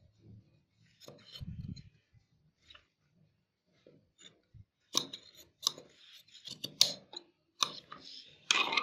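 Scissors snipping the back neck fabric of a blouse, with a series of close, crisp cuts in uneven bursts that grow denser and louder toward the end, in a quiet room.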